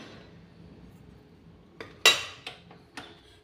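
A few sharp metallic clinks and scrapes ring out close by, like something being tipped into a metal bowl, with quiet kitchen hum before them.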